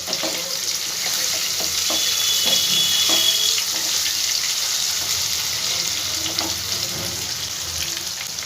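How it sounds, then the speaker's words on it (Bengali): Potatoes fry in oil with salt and turmeric for a papad curry, a loud, steady close sizzle with occasional spoon clicks against the pan. "লাল করে আলুগুলো সব ভেজে নেব।"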